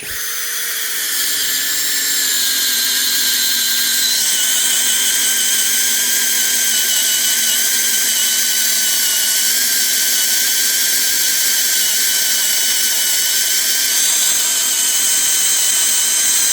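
A cordless drill-driver bores a hole with a steady, high, close-up whine that holds for over fifteen seconds, its pitch wavering slightly as the bit bites deeper.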